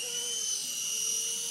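An RC Era C189 remote-control helicopter hovers nearby with a steady high-pitched electric whine and rotor hum, constant in level throughout with no voice heard.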